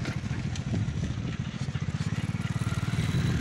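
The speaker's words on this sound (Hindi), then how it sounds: "ये देखो गाइस, ये इनका ट्रैक्टर" A farm tractor engine runs close by in a Pakistani village, starting as a rough rumble and then settling into an even, rapid thudding of piston beats that continues to the end.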